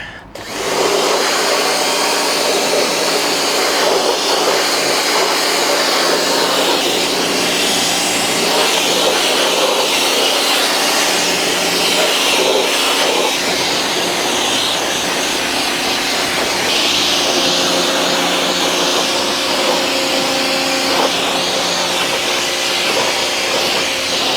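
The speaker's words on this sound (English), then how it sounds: "I'm going to spray down the chain as well, get all of this gunk off as much as I possibly can" A steady, loud hissing spray runs for the whole stretch with no break as a motorcycle chain is sprayed down to clear off built-up gunk.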